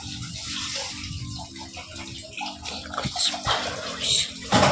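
Whole lentils being washed, heard as steady running and sloshing water with splashes that swell louder near the end, close by and without speech.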